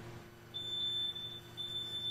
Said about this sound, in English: this kid alarm with both types of sensors sounded quickly